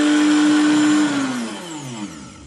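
A blender whirs loudly while blending a detox soup with almond purée, its steady high motor whine running, then winding down and slowing over about a second.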